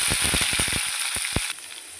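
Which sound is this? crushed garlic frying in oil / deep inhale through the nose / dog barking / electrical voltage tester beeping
crushed garlic frying in oil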